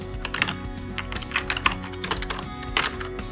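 Typing on a computer keyboard while entering the pieces of an outfit into a calendar page, with clusters of light key taps in irregular bursts, close and alone.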